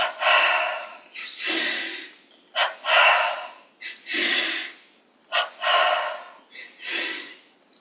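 Slow deep breaths during a yoga breathing exercise, close and loud, with long breathy exhalations alternating with shorter sharp inhalations in a steady rhythm, about six cycles with no talk.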